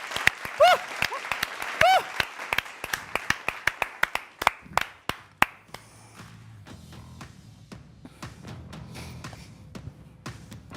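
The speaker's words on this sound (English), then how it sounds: "round of applause for Spencer Siegel on the chat" A small group applauds during a live watch-along of FC Barcelona vs Borussia Dortmund, giving a round of sharp, fairly close claps that are dense at first and thin out into scattered taps with low murmuring.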